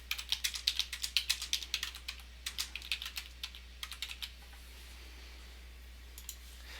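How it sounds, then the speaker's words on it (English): Text is typed on a computer keyboard in a quick, even run of crisp key clicks over a low steady hum, thinning out and stopping partway through, with one last brief tap near the end. "So I'm just going to come over here and type out my text."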